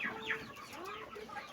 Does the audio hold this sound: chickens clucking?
yes